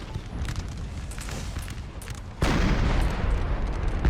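An artillery piece fires cannonballs on a Napoleon Total War battlefield amid crackling distant gunfire, then a heavy, louder boom rolls in partway through and is followed by sustained rumbling.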